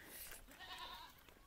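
Several goats bleat back and forth in an Indian village, some near and some farther off, their wavering cries overlapping in a quiet outdoor setting.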